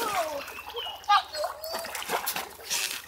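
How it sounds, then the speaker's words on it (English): Water splashing in a pool with children's voices and chatter mixed in, brief splatters and sloshes coming close and loud. "They're kicking you and splashing you."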